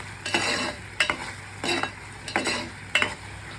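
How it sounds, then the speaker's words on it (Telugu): Lentils and curry leaves frying in oil while being stirred in a pan, with five rhythmic scraping sweeps over a steady sizzle, close and alone. "పప్పు కూడా వేసాను, కరివేపాకు కూడా వేసి ఒకసారి కలిగి తిప్పుతున్నాను."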